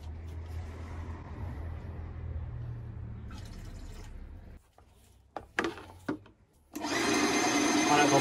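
Titan airless paint sprayer pump running as it circulates cleaning product through suction and return hoses, a steady motor drone that cuts out briefly, then resumes louder with a hissing roar.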